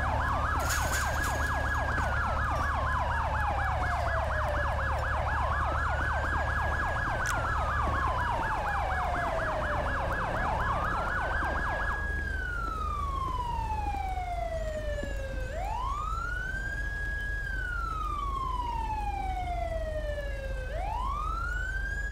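A video game police siren wails loudly and continuously, rapid rising-and-falling sweeps shifting into slower, longer wails over a low engine rumble.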